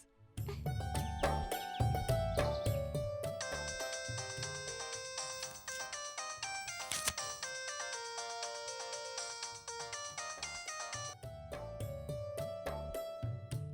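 A melodic electronic phone ringtone plays loudly and continuously, its bright tune repeating without pause and with no voices over it.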